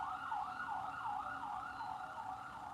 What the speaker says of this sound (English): Sorry, the siren.